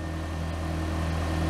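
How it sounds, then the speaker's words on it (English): Idling engine of a 2001 Honda CR-V with an exhaust leak, a steady low rumble with a continuous drone, close and constant throughout, no talking. "You can hear the exhaust leak we gotta fix and a tie rod issue."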